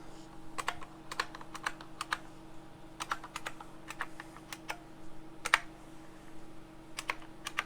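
Keys clack on an IBM Model M keyboard in bursts of sharp, close strikes, some quick runs and some single presses, over a low steady hum, with no talk.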